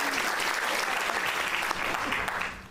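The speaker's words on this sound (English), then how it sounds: "I think we can do an extra clap for our co-MCs." An audience at a King County legislative forum on developmental disabilities claps continuously, a dense, even burst of applause that fades slightly at the end.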